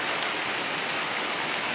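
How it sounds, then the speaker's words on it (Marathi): Heavy rain falls steadily, a dense unbroken hiss that holds at the same level from start to end with no voices. "पावसाने लयच जोरात आज हजेरी लावली."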